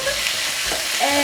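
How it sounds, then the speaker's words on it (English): Chicken breast cut into strips sizzles as it fries in a pot for jollof spaghetti, a steady close hiss with some stirring, heard alone. "So everything's gonna go into the pot, the sizzle,"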